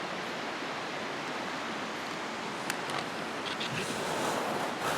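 A river runs steadily near a hammock campsite, its broadband rushing wash constant and fairly loud throughout, with a few faint high ticks and birdlike chirps near the end.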